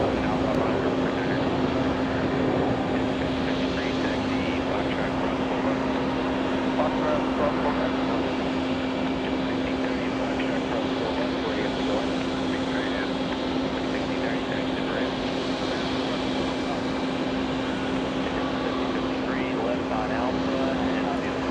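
An Aeromexico Boeing 787-9 Dreamliner, flight 408 from Mexico, arrives at JFK with a steady, continuous jet roar that holds at an even level from start to finish.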